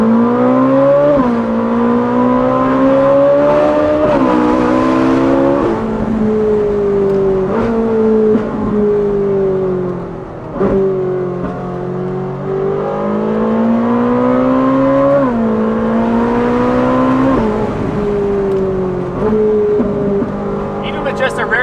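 Ferrari 458 with a Valvetronic Designs exhaust rear section and stock downpipes, revving repeatedly in first gear, loud and close, its harmonic engine note rising and falling in strong sweeps.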